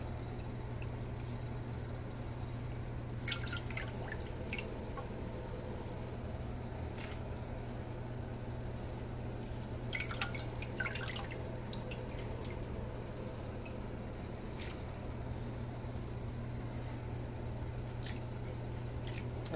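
Water drips and trickles from a strainer lifted out of soaked Irish sea moss, with scattered wet splashes and squishes over a steady low hum.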